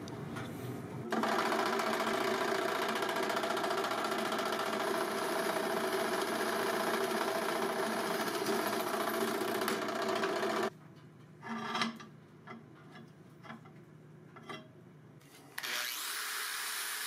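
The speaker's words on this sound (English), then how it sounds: "Time to drill some holes." A power drill runs in one long continuous whine while boring holes, heard close, then stops and is followed by a few brief bursts and a quieter stretch before the motor starts again.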